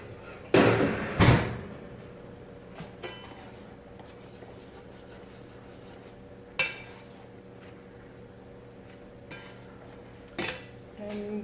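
A pan of Jamaican-style stewed pork slid back into a kitchen oven: two loud metallic clanks of pan on rack near the start, then sparse softer knocks and a final thud like the oven door closing.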